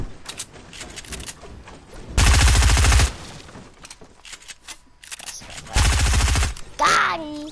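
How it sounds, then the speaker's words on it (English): Two loud, broadband shotgun blasts in Fortnite, each lasting about a second, separated by quieter game noise and light speech, with a short tonal game effect at the end. "I was trying to shoot you with my shotgun."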